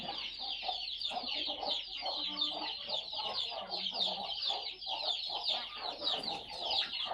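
A flock of chickens on a poultry farm clucks and chatters continuously, many birds overlapping at a fairly quiet, steady level.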